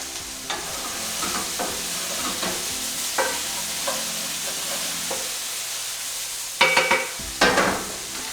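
Peppers and maple syrup sizzle in a pan as a spoon stirs them in a few scraping strokes, then two louder bursts of frying near the end, with no talk.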